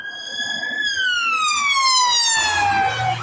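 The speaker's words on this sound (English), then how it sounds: "Now watch the ambulance is going to come past." A loud ambulance siren wails close by, its tone sliding downward as the vehicle passes, with traffic rumbling underneath.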